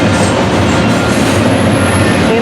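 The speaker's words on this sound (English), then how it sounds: "And we got a train going by now." A large BNSF freight train rolls past in Barstow, California, a loud, close, continuous rumble of wagons with rhythmic wheel clatter and faint squeal, no voices.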